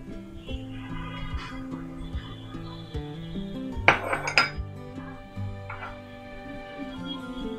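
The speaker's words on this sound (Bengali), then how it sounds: "প্রথম কিমাতে পেঁয়াজ দিয়ে দিলাম" Onion goes into chicken mince in a bowl for homemade chicken momos, with clinking and knocking of utensils against dishes. Several sharp clatters come close together midway, set against faint background music and no talk.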